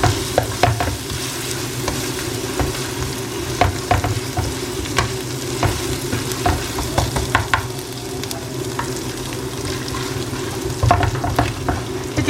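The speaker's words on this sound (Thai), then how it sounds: "แม่ก็จะผัดเต้าเจี้ยวกับไอ้นี่นะคะให้มันเข้ากันก่อนนะจ๊ะ" Fermented soybean paste is stir-fried in a pan, with a constant sizzle and crackle under repeated scraping and stirring strokes of a utensil, close and loud with no talk.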